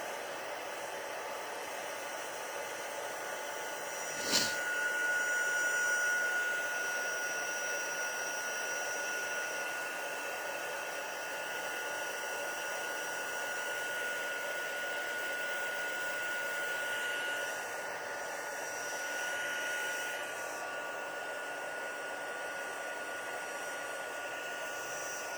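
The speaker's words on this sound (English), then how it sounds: "I feel like you don't want to watch me heat emboss" Heat embossing tool melting embossing powder on a handmade snowflake card, a steady close blowing hiss like a hair dryer that starts with a click and runs continuously, with no talking.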